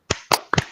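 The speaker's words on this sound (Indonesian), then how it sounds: "tepuk tangan, tepuk tangan, tepuk tangan" Three sharp, close hand claps spaced about a quarter second apart in a quick rhythm during an Indonesian school chant, with no talking over them.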